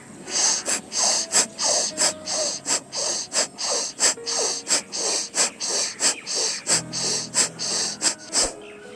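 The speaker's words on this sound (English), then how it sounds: "Hold your left nostril, with Vishnu Mudra, with these two, and inhale and exhale forcefully." Forceful Bhastrika pranayama breathing through the right nostril, with the left nostril held closed: a steady run of sharp, rapid inhale-exhale bursts, close and loud, with no talking.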